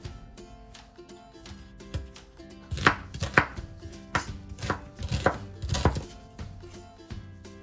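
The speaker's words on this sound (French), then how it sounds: "Donc là on a 6 gousses d'ail, un oignon blanc, du persil. Du coup on va couper tout ça." Knife chopping six garlic cloves, a white onion and parsley on a cutting board for a fish marinade: a run of crisp, close, irregular thuds and taps, some in quick bursts, with no talk.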